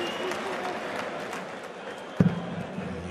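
A darts tournament crowd at the Nordic Darts Masters gives steady, moderate applause under a commentator's voice, with a sharp thump near the end.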